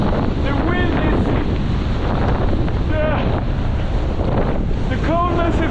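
Strong cold winter wind roars steadily against the microphone of a cyclist riding uphill in a storm, a loud, constant rumble that nearly buries a few faint voice fragments.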